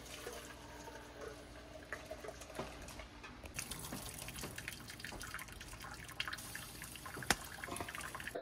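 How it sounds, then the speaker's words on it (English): Cooked al dente pasta water drained into a bowl, a continuous watery pour and trickle with scattered drips and splashes, close and moderately quiet, building slightly toward the end. "We're gonna save some of the pasta water. So we're gonna drain it into a bowl."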